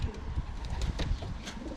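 Soft cooing from a racing pigeon, low murmuring coos repeating through the clip with a steady background hum, close by and fairly quiet.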